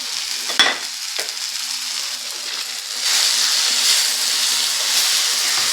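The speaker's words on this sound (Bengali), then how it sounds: "চিংড়ি মাছটা দিয়েও আবারও ভালো করে কষিয়ে নেব একটু" Fried prawns tossed back into a spiced potato and bori mixture, a steady sizzle with a couple of sharp spatula knocks early on, then the frying grows louder and denser.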